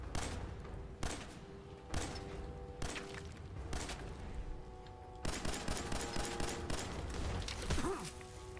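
Bursts of automatic gunfire in the video game Fallout 4, rapid volleys repeating every second or so, then a sustained stretch of rattling fire, loud and close.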